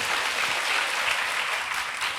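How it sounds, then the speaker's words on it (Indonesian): A church congregation claps continuously at a Sunday morning worship service, a dense, even patter of many hands at moderate volume with no talk over it. "Ya, boleh tepuk tangan, jangan separuh-separuh."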